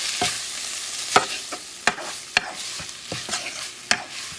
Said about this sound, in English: And you mix everything together.